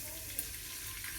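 Chillies spattering in hot oil while frying for a bitter gourd curry, a steady close sizzle with small pops across the short stretch.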